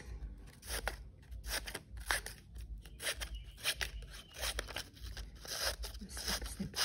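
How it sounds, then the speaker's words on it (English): Scissors snip repeatedly through paper while a textured design booklet is being made, crisp close cuts in quick irregular bursts with soft rustling between them. "Snipping away like this."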